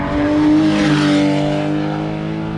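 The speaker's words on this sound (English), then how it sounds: "GT3 Porsche, they sound incredible." A Porsche GT3 race car, flat-six engine howling loud and sustained as it climbs the Shelsley Walsh hillclimb course, with a steady high-revving tone near by.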